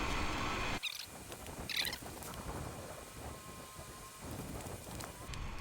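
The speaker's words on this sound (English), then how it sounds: "Well, it's starting to rain." Rain begins falling outdoors over a garden where chestnuts are being planted, a steady broadband patter with occasional sharper drop hits, close by and continuous.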